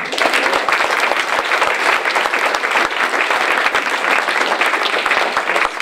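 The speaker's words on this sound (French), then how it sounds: "Gardez quelques applaudissements pour Cécile Vechter, la suppléante d'Olivier" A crowd at a French political rally claps steadily and loudly, a dense wash of hand claps sustained for several seconds without a break.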